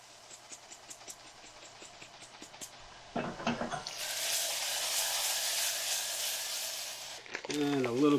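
Onions cooking in a pan with salt and red pepper flakes, a soft broadband sizzle that swells to a steady loud hiss after a few seconds, with tapping before it and a voice cutting in near the end.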